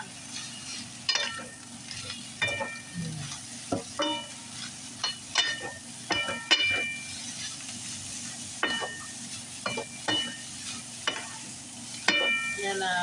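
A spatula repeatedly scrapes and tosses chicken fried rice with vegetables in a hot pan, sharp metallic strokes recurring every second or so over a steady close sizzle.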